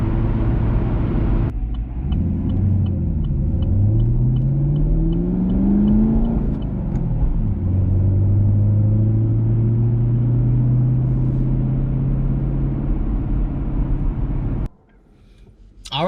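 A Chevy C10 truck's engine revs and drones up and down while its cold-stiffened tires spin on a road at about 35 degrees, the rising and falling whine loud and close before an abrupt cut.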